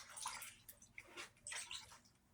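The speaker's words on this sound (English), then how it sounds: "I wash them under the sink," A stencil cleaner being rinsed under a running sink tap, with splashing, dripping and gurgling water in irregular bursts, close but fairly quiet.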